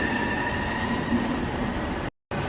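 Steady rumble of a light rail train departing a station nearby, with a faint high whine over the low drone, continuous until a brief cut near the end.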